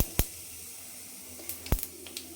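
Urad dal, chana dal and mustard seeds fry in hot oil with a faint, steady sizzle dotted by a few sharp, scattered pops and crackles.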